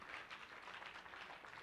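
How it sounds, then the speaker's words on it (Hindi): An audience at a seminar claps for a speaker, a short, faint patter of applause that sounds distant and thin and lasts under two seconds. "अशोक भाई के लिए एक बार जोरदार तालियां"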